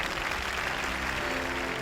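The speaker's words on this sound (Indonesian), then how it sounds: "Berikan tepuk tangan yang sungguh-sungguh untuk Tuhan" Dense, continuous clapping from a church congregation applauding God, loud and steady throughout with a faint murmur of voices mixed in.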